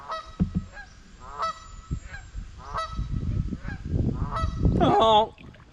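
Several geese honk as they fly in to land on a creek, spaced calls building into a louder, denser cluster of honks near the end.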